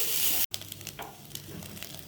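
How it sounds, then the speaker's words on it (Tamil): Grated coconut being sautéed over low heat in a pan for a laddu gives a soft, close sizzle with light stirring scrapes, briefly cut off by a moment of silence. "அனல் குறைச்சி வச்சு தேங்காயை நல்லா நம்ம வதக்கிடலாம்"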